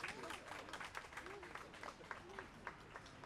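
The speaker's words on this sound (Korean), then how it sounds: "큰 박수로 맞이해 주십시오." Audience applause rolls through a hall at a May 18 Democratic Uprising memorial ceremony in Incheon, a faint, steady patter of many hands clapping with a voice speaking over it.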